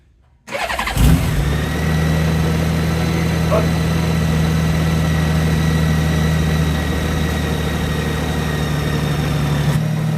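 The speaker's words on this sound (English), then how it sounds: "let's turn the bike on and see what we got." A Honda Goldwing motorcycle engine cranks and fires after a brief silence, then settles into a steady, loud, close idle with a deep low hum that runs unbroken to the end.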